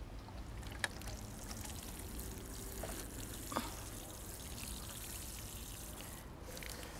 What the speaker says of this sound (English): I'm going to take my watering can, I'm going to water the berries in